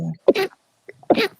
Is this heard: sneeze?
yes